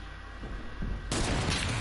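Gunfire in a shooter video game, a quieter stretch of game ambience then a sudden loud burst of rapid shots that keeps roaring to the end.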